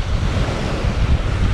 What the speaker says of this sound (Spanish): nunca imaginamos que iba a estar el mar así de bravo